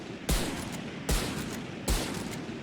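Three loud sniper rifle shots from the Marshal in the video game Valorant, evenly spaced about a second apart, each a sharp crack with a short decaying tail.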